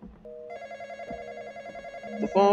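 A telephone rings in the Roblox horror game The Intruder, a steady electronic ring with bright layered tones that holds for a couple of seconds over faint background noise.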